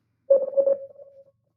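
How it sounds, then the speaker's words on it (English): A single electronic tone beeps in quick short pulses and then trails into a longer steady note, close and clear against silence, as Morse code signalling. "So you could do regular Morse code"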